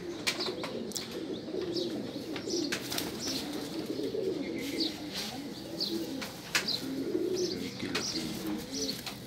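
Racing pigeons coo steadily at a loft during a Lahore pigeon-flying competition, with overlapping soft low coos and scattered chirps in continuous outdoor ambience.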